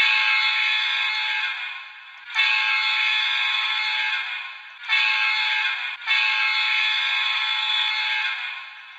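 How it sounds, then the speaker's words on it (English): Horn of a Walthers EMD SD70ACe model locomotive with ESU sound: three sustained, loud, close chord blasts, the first two long and the last cut off, with brief gaps between and no talk. "F2 is the horn."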